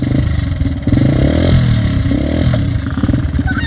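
A speedway motorcycle engine revving and accelerating, loud and close with clattering mechanical texture and pulsing throttle changes over a few seconds.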